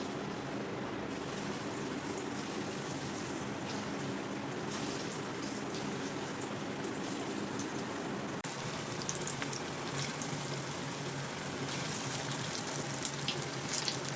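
Spiced banana balls frying in a pan of oil on a stove, giving a steady, fairly faint hiss and crackle that keeps going without pause and grows slightly busier toward the end.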